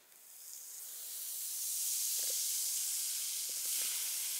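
Vinegar fizzing on a baking soda dinosaur egg, a steady airy hiss that rises over the first two seconds and then holds, with a few faint soft pops, close and without voices.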